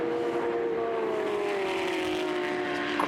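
Historic racing car at speed on a circuit during the Alan Mann Trophy, a loud sustained engine whine gradually dropping in pitch as it passes.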